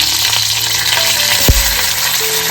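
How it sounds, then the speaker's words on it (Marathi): Garlic and curry leaves sizzle steadily in hot oil in a wok, a dense continuous crackle with a brief louder burst midway, close and without talk. "इकडे आईने कढईमध्ये तेल घातला होता आता फोडणीसाठी इकडे लसूण घातले हा कढीपत्ता घालून घेतले"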